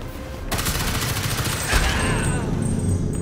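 Gunfire in Gotham Knights: a dense, sustained rattle of automatic fire breaks out and keeps going with a booming hit partway through, loud and close.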